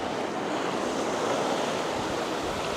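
Ocean surf swirls at a beach at low tide, a dense, steady rush of breaking water with wind noise, loud and continuous throughout.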